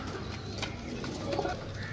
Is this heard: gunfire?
no